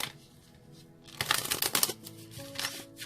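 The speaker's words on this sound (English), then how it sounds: "So they want another shuffle." A deck of tarot cards is riffled and shuffled by hand in a pick-a-card reading, a soft rustle that swells into a quick crisp flutter of cards before settling, with no voices.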